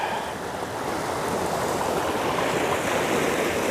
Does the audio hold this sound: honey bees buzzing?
no